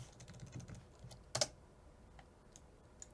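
A short burst of computer keyboard typing, one quick cluster of clicks near the middle against a quiet room with faint background noise.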